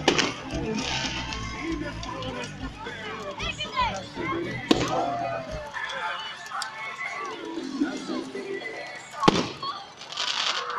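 Fireworks go off at a village carnival in Makrochori, with sharp cracks and pops scattered over a busy outdoor crowd while people talk and shout throughout.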